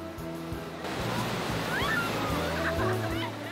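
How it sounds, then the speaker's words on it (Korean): Big East Sea surf rolls onto the shore in a loud continuous roar, the churning wash building and holding under gusty wind. "동해 바다에 오더라도 오늘 같은 파도를 만나기는 쉽지 않죠."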